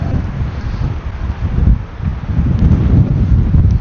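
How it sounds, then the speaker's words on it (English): Strong wind at the Grand Canyon buffets the microphone with a loud, low, rumbling roar that swells and gusts without a break, and no voices are heard. "that wind is really picking up"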